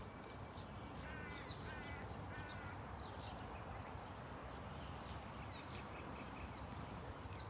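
An outdoor bird, likely a crow, gives a few short harsh calls in repeated bursts against a steady broadband background hiss, fairly faint and distant, with no talking.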